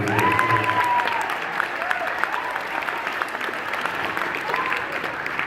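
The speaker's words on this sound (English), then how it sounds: "Have a round of applause." Steady applause from a crowd at a beginning band concert fills the whole stretch, dense clapping with some faint voices and murmurs underneath.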